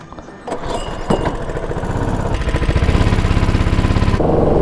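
A quad ATV engine starts and revs up for a warm-up lap, its loud, close rhythmic putter building steadily into a continuous engine drone.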